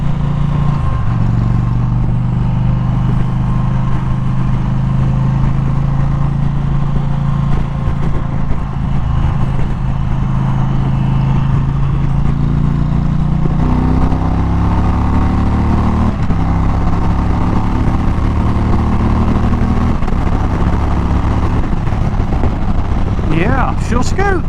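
An Indian Challenger motorcycle engine pulls steadily under acceleration while riding, a loud continuous drone whose pitch climbs and shifts through gear changes, with wind rush throughout.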